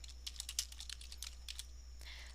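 Quick bursts of key presses on a computer keyboard while entering text in Excel VBA, rapid irregular clicks close to the microphone over a low steady hum, with no talking.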